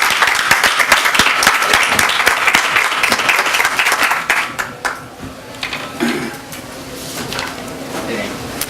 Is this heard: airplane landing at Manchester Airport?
no